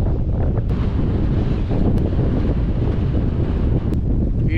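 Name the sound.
strong wind blowing at Dhanushkodi coast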